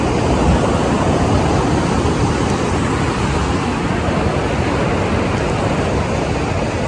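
Steady broadband rush of ocean surf at the shore outdoors, a continuous loud wash with no distinct breaks between waves and no talking.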